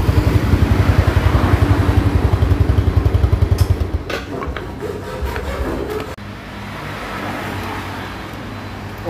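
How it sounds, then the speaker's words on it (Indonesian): A Yamaha Jupiter Z motorcycle engine idles with a rapid, loud pulsing putter, then is switched off partway through, leaving a fading rattle and a quieter background. "sekarang kita lanjutkan, kita matikan mesinnya dulu."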